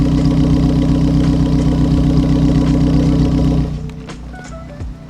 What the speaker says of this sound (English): This is what the exhaust tone is now then.